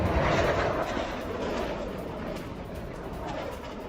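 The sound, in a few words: F-16 fighter jets flying near the border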